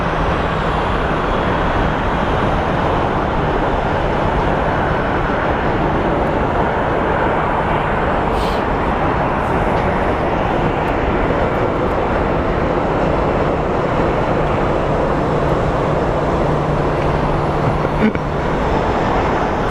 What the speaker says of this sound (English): we have Cruise the Island Fox livery coming in from Santa Ana.